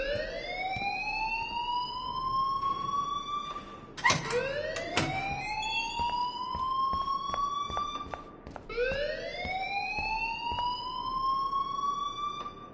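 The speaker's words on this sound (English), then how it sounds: "please turn off that alarm since that's your job" An electronic alarm in the Life is Strange video game wails in rising sweeps that repeat over and over, loud and close like a siren, with a sharp burst of clutter midway.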